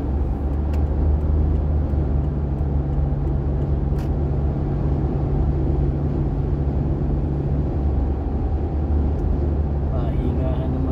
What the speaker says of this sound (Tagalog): Ganito mag-drive sa Dubai.